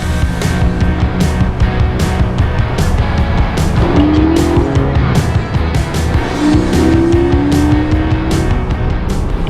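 A Porsche 718 GTS with a 4-liter flat-six drives hard along a winding mountain road. The engine note is loud and close, revving and shifting throughout, with brief rising sweeps in the middle.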